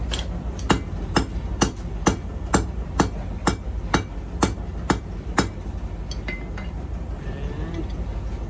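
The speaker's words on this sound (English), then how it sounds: "we've been hammering on this in" A hammer strikes a rivet on a pair of forged blacksmith tongs in a quick, even run of about a dozen sharp metallic blows, close and loud, before the tapping stops.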